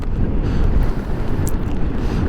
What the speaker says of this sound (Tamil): அவ்வளோ வீச்சாக காற்று அடிக்குதுன்னு சொல்லி காற்று இவ்வளோ வீச்சாக இருக்கிறபடியால்